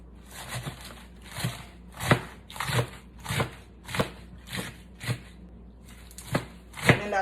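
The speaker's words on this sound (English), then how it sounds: "I'm cutting the salad into slices" A knife slices through salad greens on a cutting board in a regular series of crisp, crunchy cuts, about ten strokes spaced under a second apart, close up with no talking.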